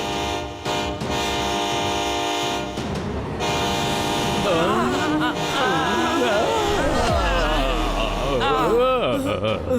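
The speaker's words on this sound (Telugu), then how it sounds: "ట్రైన్ వస్తుంది." A train rumbles closer with a long blaring horn, loud and continuous, while excited voices talk over the noise.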